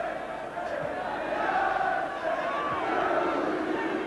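A football crowd at a Norwich City versus Manchester City match gives Kevin Bond an unfriendly reception, a sustained rumbling mass of voices from the stands rising and dipping beneath a commentator's talk.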